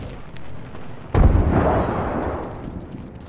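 In the shooter Apex Legends, a quiet stretch of game background breaks into one loud, sharp grenade blast at close range, followed by a rumbling, slowly fading tail.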